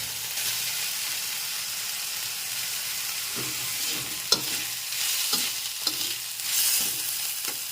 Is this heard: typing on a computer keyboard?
no